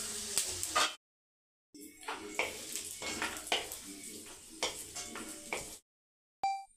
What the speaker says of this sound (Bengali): বাকি তেলের মধ্যে সামান্য একটু হিং দিলাম আর 2টো শুকনো লঙ্কা ফোড়ন দিলাম।